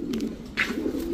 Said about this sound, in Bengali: ব্ল্যাক টাইগার শ্যাডেল একটা নর কবুতর একদম 2500